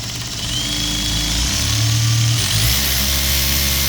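A Makita cordless screwdriver whirs loudly and close as it drives a screw, its motor tone shifting as the clutch begins to slip and catch while the screw tightens.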